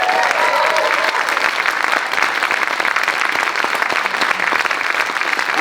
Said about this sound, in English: Can we have another huge round of applause for the amazing musicians?